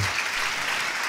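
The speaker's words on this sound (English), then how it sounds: "So have a big round of applause for all of you." An indoor audience at a talk and interaction session gives a big round of applause, a dense, steady wash of clapping that stays loud throughout.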